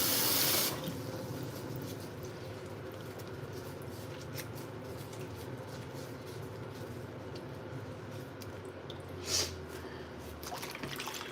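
A kitchen tap runs steadily into a clean sink during washing, making a continuous, fairly quiet stream of water. A brief clatter rises near the end, and no one speaks over it.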